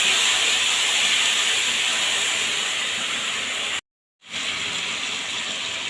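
Spice paste frying in hot oil for an aubergine dish, giving a steady loud hissing sizzle that cuts out abruptly for a moment near the end before resuming.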